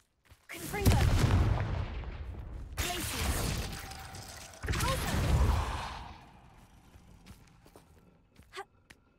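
Confringo explosive spells cast in the Hogwarts Legacy video game give three sharp blasts, each a heavy boom with a rumbling, crackling tail, followed by quieter scattered impacts and faint game sounds.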